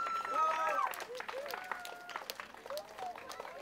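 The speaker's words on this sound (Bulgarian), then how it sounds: "Пляскаме и на него." A small crowd at a children's opera performance of Bastien and Bastienne claps for the tenor, a brisk burst of applause that tapers off, heard close with whistles and cheerful voices mixed in.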